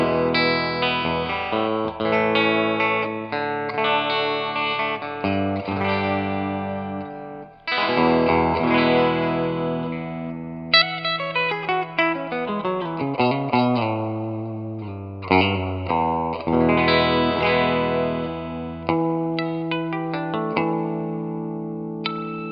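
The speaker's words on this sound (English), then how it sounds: "that's the Xvive A58 guitar wireless system" Electric guitar played wirelessly through an Xvive A58 transmitter and receiver into an amp, strummed chords and single-note runs with effects, distortion and chorus, loud and continuous with short pauses between phrases.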